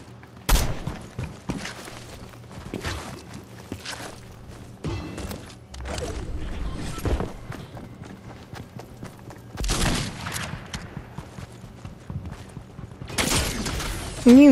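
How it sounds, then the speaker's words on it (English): Gunfire in the Fortnite video game comes as sharp, scattered shots and bursts of varying loudness, mixed with thuds and movement noises across the stretch. "Can you not shoot at me, buddy?"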